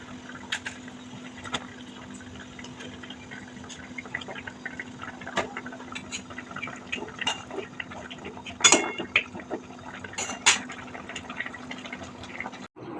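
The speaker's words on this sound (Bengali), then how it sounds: "ঝোলটা ফুটে গেছে দেখতে যাচ্ছ এরপর মাছগুলো আমি দিয়ে দিচ্ছি" Fish pieces dropped into boiling curry gravy in a pot, giving a steady bubbling simmer with scattered clinks and splashes, a couple of louder clatters near the end, no talk.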